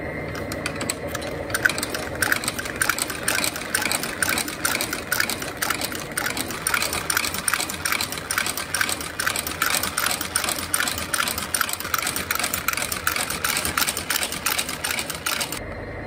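Sewing machine stitching a crepe sole onto a Red Wing Iron Ranger boot, running steadily with a fast, even mechanical rattle of needle strokes for about fifteen seconds, with no talk over it.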